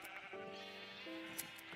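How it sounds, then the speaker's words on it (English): Two sheep bleats in Minecraft, each a short wavering cry, the first near 0.3 s and the second near 1.1 s, clear and close over a faint steady game background. "I do need more red sheep, though. Come here, red sheep."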